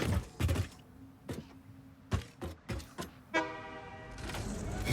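A train in the video game Satisfactory, loading petroleum coke at a station in a crater: a sustained harmonic horn toot rises near the end, after a series of sharp mechanical clunks and thumps over a low steady hum.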